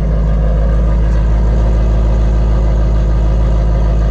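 An 800R package car idles with its exhaust set to sport mode, giving a steady, loud, low rumble that holds even throughout, with no talking.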